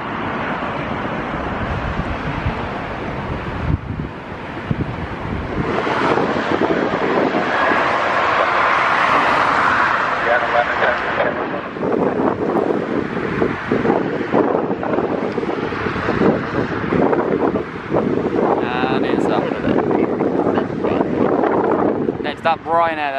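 Strong wind gusting across the apron at London Gatwick Airport, a loud continuous roar buffeting the microphone with aircraft noise mixed in and a voice speaking over it at times.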